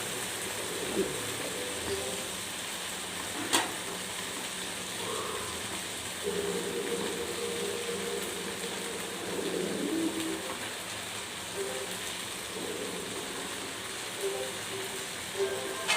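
Okra and a masala of chilli powder, turmeric and coriander powder fry in a hot pan, giving a steady broadband hiss with occasional soft stirring scrapes. It runs continuously and fairly close, with no talk.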